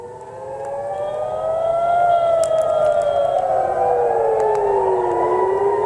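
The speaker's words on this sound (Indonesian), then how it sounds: "Sirine peringatan terdengar di berbagai wilayah, termasuk kawasan pelabuhan utama di Haifa." Civil defense warning sirens wail across Israel, including the Haifa port area, during an Iranian attack; several overlapping sirens rise and fall in steady, loud, sustained tones with no voices.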